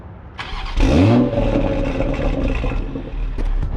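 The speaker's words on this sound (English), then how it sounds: "let's go ahead and hear a start up on this thing" A Toyota Supra MK5 with a catless downpipe starts up, warm rather than cold: the starter catches, the engine flares loudly close by, then settles into a steady rumbling idle with small pops toward the end.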